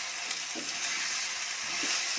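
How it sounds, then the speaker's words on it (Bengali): Spices sizzle in a pan with paneer: cumin, coriander powder, chili powder, paneer masala, vegetable masala and Rajasthani red chili. A steady, close hiss of frying runs throughout, with a few soft stirring knocks and no voices. "তো মশলাটা দিয়ে আমি একটুখানি ভাজা ভাজা করে নেব।"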